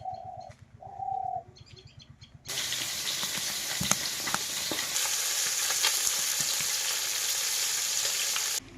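A fish curry cooks in a pan, starting after a short quiet stretch with a few bird-like chirps and scrapes, then turning into a loud, continuous sizzle with occasional stirring clatter, with no voices.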